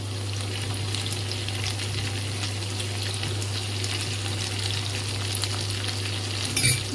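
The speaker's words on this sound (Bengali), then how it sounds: "এগুলো ভাজা ভাজা হয়ে এসছে। এরপর আমি দিয়ে দেব কেটে রাখা ক্যাপসিকাম" Chicken pieces frying for chili chicken in a hot pan, a dense, even sizzle held close and steady, with a sudden hiss and clatter at the end as chopped capsicum goes in, over a low kitchen hum.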